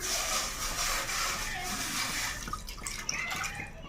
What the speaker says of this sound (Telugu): ఒక గ్లాస్ వాటర్ ఇందులో పోసుకోవాలి ఫ్రెండ్స్